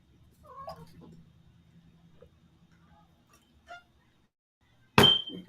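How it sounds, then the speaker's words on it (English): A house cat calls out once, a short loud meow near the end, after a stretch of quiet low indoor hum and a faint brief noise. "My cat is here trying to jack the milk that I just got."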